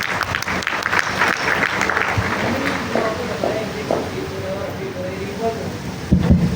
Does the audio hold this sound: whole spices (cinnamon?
no